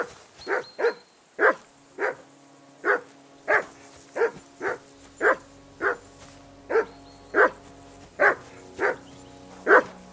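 A dog barks in Kingdom Come Deliverance II, fourteen or so sharp, evenly spaced barks close by, repeating at a steady rhythm over a quiet background.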